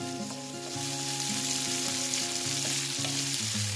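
Chopped onions sizzle steadily in hot oil in a pan, a dense continuous frying hiss with occasional stirring, close and without talk.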